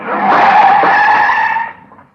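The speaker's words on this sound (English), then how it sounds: "There's a car following us without lights." A car tire skid in a dark-street scene from an old radio drama, loud and steady for about a second and a half, then tapering off quickly.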